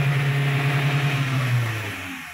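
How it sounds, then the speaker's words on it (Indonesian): Honda Rush SUV engine given a little throttle, a steady mid-pitched droning hum with a rising tone that holds for about two seconds, then drops off and fades. "Ini digas sedikit aja coba, Pak Yusuf."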